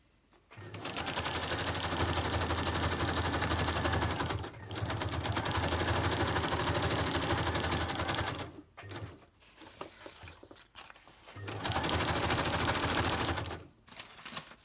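A sewing machine stitches napkin collage pages in three long, loud runs of rapid mechanical chatter, separated by short pauses with lighter clicks and handling.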